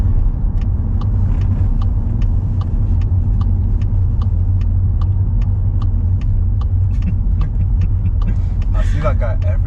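Learner car, a Toyota Yaris, driving through Leeds streets on a mock driving test, with a steady low engine and road rumble throughout and faint regular ticking above it.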